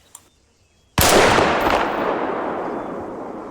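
A single loud sniper rifle shot in the video game Arma 3 cracks out sharply, then rolls into a long, broad echoing tail that fades slowly over several seconds, with only a faint click before it.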